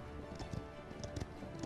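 A horse mount galloping in the video game Paladins, a quick run of faint clip-clop hoofbeats over a low game background.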